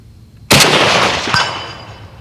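A Romanian PSL-54R rifle fires 7.62x54R rounds at an outdoor range: one sharp, loud, close gunshot with a long ringing decay, and a second fainter crack just under a second later.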